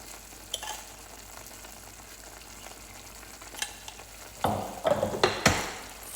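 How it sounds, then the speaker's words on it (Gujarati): Spiced masala for matar pulao roasting in a pan, a soft steady sizzle with light stirring scrapes that grow louder and busier toward the end, no voices. "અને હવે બરાબર મસાલાને એકદમ શેકાવા દેવાનો"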